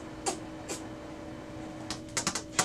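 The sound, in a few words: Brother MFC-L2720DW laser printer initializing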